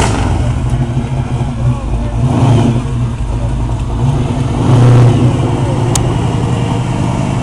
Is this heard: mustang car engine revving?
yes